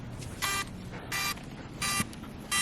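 A drone lying in snow gives four short electronic beeps at an even interval, fairly loud and close, over a quiet background.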